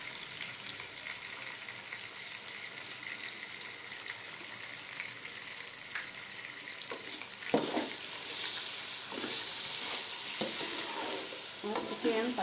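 Chicken pulao being stirred and fried in a pot, with a soft steady sizzle throughout and scraping stirring strokes growing more noticeable toward the end; no talking.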